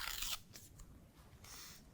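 Coffee beans poured into the grinder of an xBloom Studio coffee brewer make a close, loud rattling burst at the start, then scattered small clicks and a second, softer rush of beans near the end.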